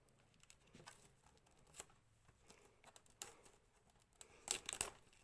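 Cardboard and plastic wrapping on a Pokémon card box are torn open by hand, without scissors, in short quiet rips and crinkles that build to a louder tearing burst near the end.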